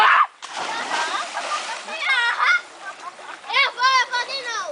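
A person jumps into a fast-flowing river with a brief burst of splashing water at the start, followed by excited, high-pitched voices talking and shouting loudly nearby.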